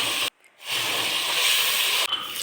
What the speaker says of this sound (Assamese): প্ৰথমতে আমি মাছকেইটা ভাজি ল'ম।